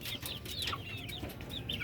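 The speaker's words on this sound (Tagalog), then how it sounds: "Ito yung huli nating mga sisiw." Chickens cluck and young chicks cheep in short, overlapping calls, close by and steady, with no one speaking.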